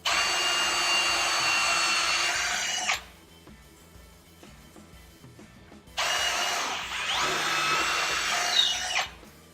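A power drill bores holes into a wooden king-size bed frame in two bursts, each about three seconds of whirring, separated by a quiet pause with faint knocks.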